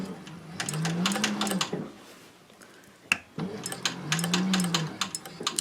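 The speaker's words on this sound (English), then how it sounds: "I'm ready to top stitch down those side seams" A sewing machine on its cylinder arm top stitches the side seams of denim jeans with a long stitch, running in two steady bursts of rapid clatter separated by a brief pause and a sharp click.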